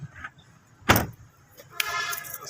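A door on a 2013 Honda Vezel opens with a single loud mechanical clunk, then a softer rustle and lighter rattles afterward, recorded close up with no talking.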